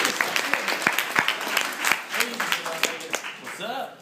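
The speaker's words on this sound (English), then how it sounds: "Can we give a round of applause for Robbie?" A crowd claps briskly for a guest named Robbie at a live demonstration, with sharp individual claps and cheering voices mixed into the applause.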